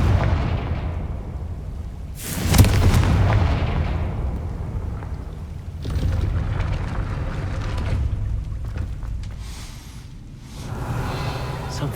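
Confringo explosive spell in Hogwarts Legacy erupts as a sharp, loud blast that rolls into a sustained rumbling roar, then further rumbling surges follow over the next several seconds amid game ambience.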